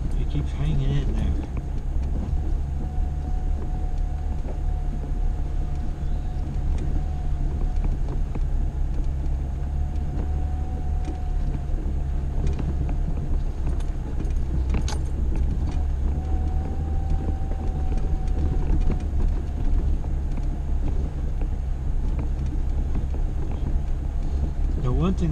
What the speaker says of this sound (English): Sitting in the car, flying along.